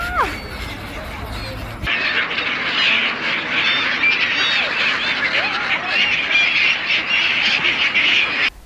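A flock of seagulls at Bang Pu seaside in Samut Prakan squawks and calls over a dense, continuous wash of overlapping cries, loud and close throughout.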